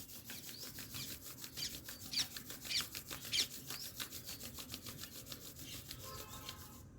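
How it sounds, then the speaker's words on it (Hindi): Both palms rubbed briskly together in a steady back-and-forth rasp, continuous and close for several seconds with a few louder strokes, no talking. "दोनों हाथों की हथेली को रगड़िए जब तक गर्म ना हो जाए।"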